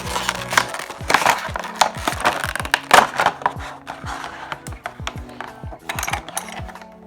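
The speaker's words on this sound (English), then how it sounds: "They just pop right out of the packaging like so." RC4WD Chubby steel scale jackstands pop out of their plastic packaging in a rapid run of sharp, close clicks and light clattering, with no voices.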